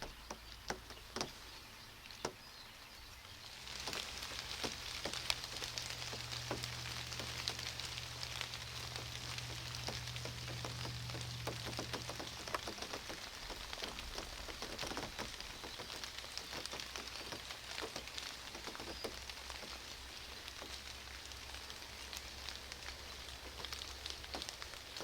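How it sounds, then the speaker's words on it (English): Light, spitting rain falls outdoors in the brush in poor weather, a faint steady hiss with scattered ticking drops and a low hum early on. No one speaks. "Still spitting rain and crappy weather out there."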